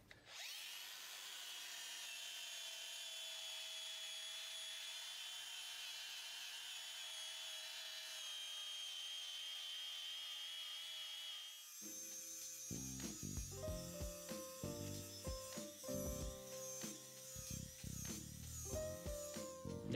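A 125mm poly flap disc spins up with a high, steady whine for several seconds before biting into a propeller, turning to a harsher, uneven grinding rasp as it sands the surface.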